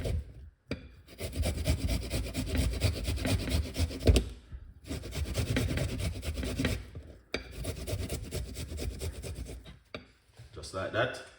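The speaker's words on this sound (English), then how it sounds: "Grate a little piece of a ginger." Fresh ginger rasped against a grater in long, steady bursts of scraping, broken by a few short pauses, close and fairly loud with no talking.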